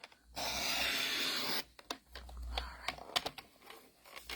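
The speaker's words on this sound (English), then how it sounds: "so let's cut this with a trimmer" Paper trimmer slicing through card: a steady rasping cut of about a second, followed by scattered clicks and taps from handling the trimmer and paper, close and fairly quiet.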